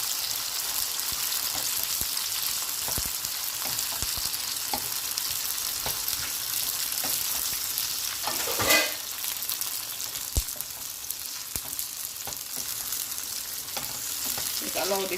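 Pork sausage sizzles steadily in a pan, Jamaican-style with seasoning, with occasional scraping stir strokes and a brief louder clatter midway; continuous frying hiss throughout, no talk.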